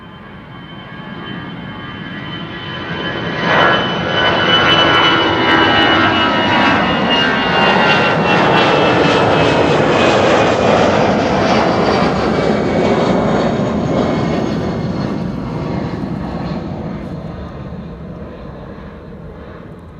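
An EasyJet jet airliner taking off from Amsterdam Schiphol's Kaagbaan runway, its engine roar swelling from a distant rumble to a loud sustained blast, then slowly fading as it climbs away.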